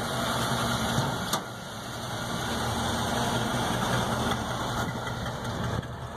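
A 1950 Cadillac Series 62 Coupe idles steadily with a low, even engine rumble and a faint high whine, heard close with no talking apart from a couple of small clicks.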